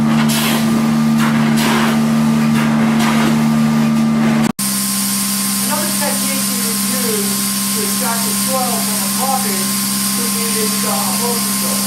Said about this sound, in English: This is a typical kind of extraction that one can use in cleaning carpets wall to wall and also area.